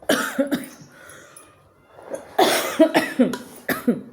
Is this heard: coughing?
yes